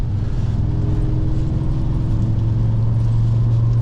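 An Audi RS3's 2.5 liter engine drones through its exhaust while driving on a rainy day, a loud, steady low rumble with a rising tone held for about four seconds, no voices.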